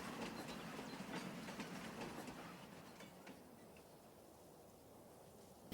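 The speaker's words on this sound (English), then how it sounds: "And the train went on" A train in the Farming Simulator 25 video game rumbles away with light rhythmic clicking of wheels, gradually fading quieter into a low background hum.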